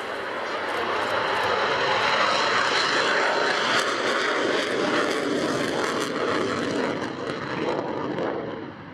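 A Belgian Air Force F-16 fighter roars through its display at the Royal International Air Tattoo 2016, a loud sustained engine rumble that swells and slowly fades as the jet passes overhead.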